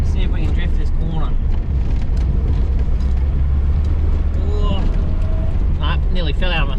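A 1972 Datsun 1600 drifting around a corner, its engine a steady close low rumble heard from inside the cabin while someone talks over it.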